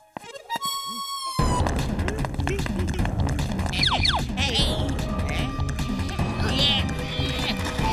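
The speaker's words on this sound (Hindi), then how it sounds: "मोटू, ये बताओ कि तुम्हारे घोड़े को टांगे में कैसे लगाते हैं?" A cartoon horse whinnies and clip-clops amid busy animated sound effects, with a loud neigh and hoofbeats standing out over a dense backdrop and characters talking.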